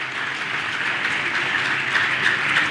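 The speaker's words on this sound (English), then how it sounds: "Please, can the round of applause be louder?" Applause from a crowd at a public event where a 40,000,000 naira donation is presented, a steady dense wash of clapping that holds evenly throughout with no voices over it.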